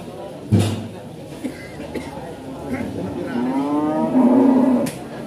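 A cow lets out a long, low moo that swells and fades, with a few thumps and brief voices in the background at the Paing cattle market in Pati, Indonesia.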